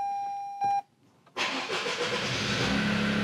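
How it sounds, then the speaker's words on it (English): A Toyota GR Yaris with a JB4 tuner fitted starts up: a short electronic beep, a brief pause, then the engine cranks and catches, settling into a loud, steady idle close by. "first thing is start the car up"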